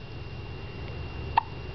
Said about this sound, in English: She has the hiccups right now.